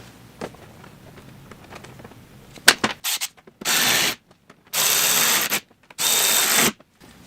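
Bolts on the mud flap of a 2023 Chevrolet Colorado ZR2 tightened with a power tool in three close, loud sustained bursts after some clicking handling sounds.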